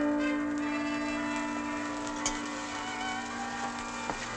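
A bell rings in a classic adventure film, its tone sustained and humming on with faint ticking knocks, fairly quiet and with no voices.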